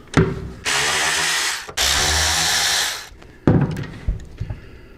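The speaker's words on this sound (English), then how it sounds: "to get the voltage regulator off, we have a 3/16 Allen on both sides. We're going to remove those." A power driver running two long whirring bursts as 3/16 Allen bolts are backed out of a motorcycle voltage regulator on a Softail, followed by metallic clinks and clatter of parts, with no talking.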